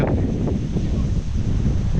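Strong, steady wind buffets the microphone on the shore at Batas Island, with waves rumbling low and continuous beneath it.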